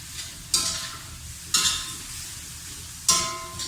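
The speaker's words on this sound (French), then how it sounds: "Je remue de nouveau." Rice noodles with chicken and curry stirred in a frying pan: three distinct scraping stirs, roughly a second or more apart, each a bright rasping sweep over a low steady sizzle, close and moderately loud with no talking.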